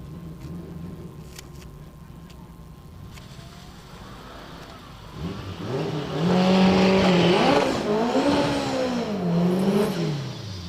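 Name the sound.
CTSV and MR2 cars racing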